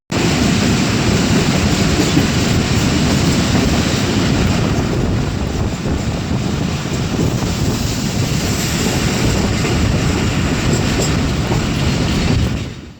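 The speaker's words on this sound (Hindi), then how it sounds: "सातकाबा रेलवे स्टेशन पर पहुंचने से पहले हमारी मुलाकात हुई एक फ्रेट ट्रेन से।" A freight train rumbles past near Satkaba railway station, a loud, continuous roar of wheels and wagons with windy noise that holds for about twelve seconds before cutting off.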